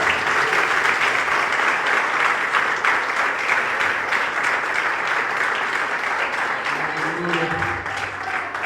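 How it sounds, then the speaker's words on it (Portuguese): A church congregation at a live evangelical anniversary service applauds loudly and continuously, a thick wash of many hands clapping close by, easing slightly near the end as a low voice begins. "Você pode aplaudir o Senhor por essa mensagem?"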